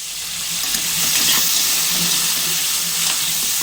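Green chilli, onion, tomato and potato pieces fry in hot oil with a loud, dense, continuous sizzle and hiss, close up and steady throughout.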